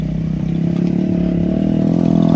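At the Hola Mohalla gathering a tractor engine chugs loud and close with a steady pulsing throb and clatter that builds slightly as it rolls by.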